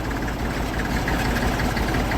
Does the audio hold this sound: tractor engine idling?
yes